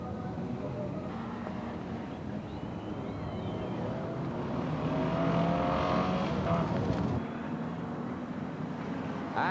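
Race cars at Ipswich roar together into the start of a 15-lap, 44-car Wheels International Championship race in 1989, a dense, steady engine din that swells louder midway, heard from trackside with no talk.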